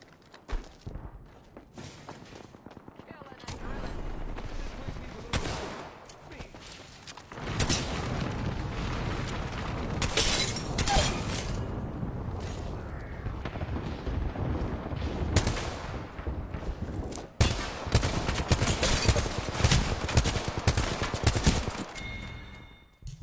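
Gunfire from a weapon fired from the hip in Apex Legends, heard as loud, dense bursts and heavy booms across most of the clip, with brief pauses between volleys and no talk.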